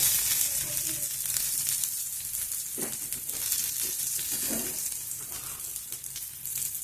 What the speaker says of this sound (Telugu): కొంచెం జీలకర్ర, కొన్ని ధనియాలు కొంచెం వేయించుకున్నాము